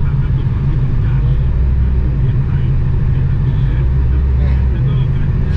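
Steady low engine drone of a BMW E36 with the M43 four-cylinder cruising in traffic, a continuous even rumble with road noise inside the cabin, while someone talks over it.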